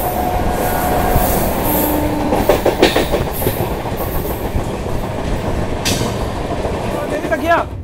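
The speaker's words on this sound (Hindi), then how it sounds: "हमारी ट्रेन ने अपनी स्पीड पकड़ ली है" A Brahmaputra Express passenger train hauled by a locomotive picks up speed, giving a steady rumble and clickety-clack of wheels on rails heard from inside a coach, with faint voices underneath and a brief squeal near the end.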